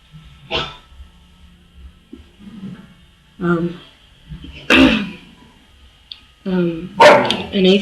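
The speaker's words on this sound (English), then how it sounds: "Sorry if you hear the dogs because I'm outside." Several sharp dog barks ring out in separate bursts outdoors, spaced a second or two apart, fairly loud against a low background hum.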